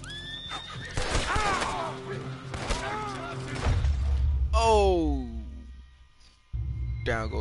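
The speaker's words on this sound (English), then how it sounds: "Get away from my horse." Horse in the Red Dead Redemption 2 video game whinnies loudly, a long descending neigh followed later by a shorter second call, with someone talking over and between the calls.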